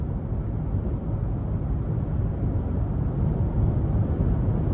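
Steady low broadband rush of wind noise heard from inside a 2022 Nissan Frontier SV pickup truck while driving, a continuous even roar with no talk over it.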